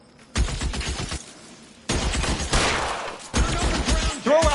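Gunfire in the L.A. Noire video game: three loud volleys of rapid shots, the last with ringing metallic tones, separated by short quiet gaps.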